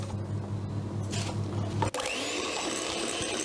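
A powerful kitchen blender whisks eggs and sugar with a steady, close mechanical whir, then shifts to a higher, strained whine partway through as the mixture thickens.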